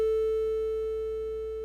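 A Serum software synthesizer holds a single steady pure tone that decays gradually in loudness over under two seconds, heard alone without speech.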